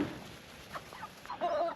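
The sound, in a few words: meat chickens clucking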